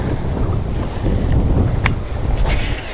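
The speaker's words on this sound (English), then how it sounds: "A little windy though." Wind buffets the microphone on a fishing boat out on open water, a steady broadband rumble lasting throughout with faint splashing and water movement, no talking.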